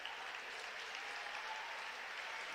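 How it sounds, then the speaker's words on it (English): Fans in the stands at a high school boys' game between Springboro and Fairmont break into steady, dense applause that fills the whole stretch, a continuous wash of clapping from a sizable crowd. "A round of applause comes from the fans in the stands"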